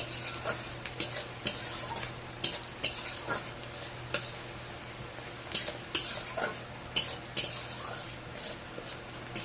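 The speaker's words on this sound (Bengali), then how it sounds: "একটু মশলাটা একটু হালকা করে পেঁয়াজটা ভেজে নিব" Onions frying lightly with spices in a pan, a soft sizzle running underneath repeated sharp scrapes and clinks of a spoon stirring against the metal.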